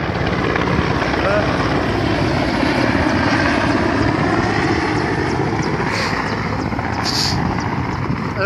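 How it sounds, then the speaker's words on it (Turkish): Firefighting helicopters hover low over water to collect it for a forest fire, their rotors and engines producing a loud, constant roar close by, with people's voices faintly beneath. "Helikopterlerimiz"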